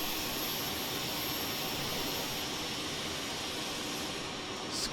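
A small two-seat trainer aircraft flies fast in Microsoft Flight Simulator 2020, producing a constant loud, dense jet-like engine roar and rushing wind that holds steady throughout.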